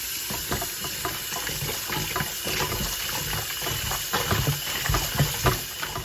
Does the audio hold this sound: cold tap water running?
yes